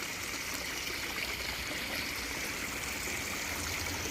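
A small backyard waterfall pours steadily, a constant close rush of splashing and trickling water with no voices over it.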